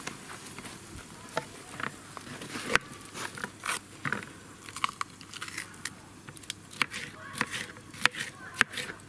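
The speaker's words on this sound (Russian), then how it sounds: "Побежали нарезать перец." A knife taps and crunches through bell pepper on a cutting board, cutting it into cubes in irregular quick chops, close but fairly soft, with faint background noise.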